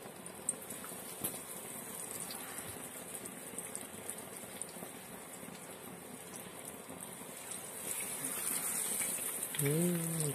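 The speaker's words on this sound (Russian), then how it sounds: "Поближе можешь оператор взять, поснимать, как жарится рыбка." Flour-coated, freshly caught fish frying in oil in a pan, a steady broadband sizzle throughout that grows slightly louder near the end, with brief voices underneath.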